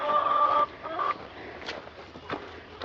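Chickens clucking in a coop run, a few near, fairly loud calls at the start, then softer scattered clucks with small movement noises.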